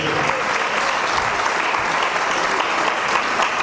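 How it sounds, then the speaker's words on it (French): Steady, dense applause from a large crowd, loud and continuous throughout with no pauses. "Je vous prie de l'applaudir très fort s'il vous plaît."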